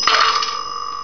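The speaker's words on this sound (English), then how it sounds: "1 ding for a nickel" A single bright ding rings from the coin bell of a 1960s Western Electric three-slot pay phone, registering a nickel, with a sharp strike and a clear metallic tone decaying over about a second, close and alone.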